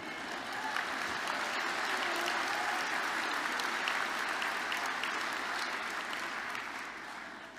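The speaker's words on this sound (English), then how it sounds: "because people are clapping" Sustained applause from a large crowd of graduates, families and friends at an Open University degree ceremony in Belfast, dense steady clapping filling the hall for several seconds before easing slightly at the end.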